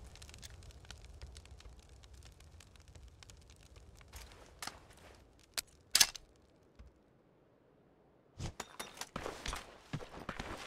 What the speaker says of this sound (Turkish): Ulan ayak sesleri bug'lı mı?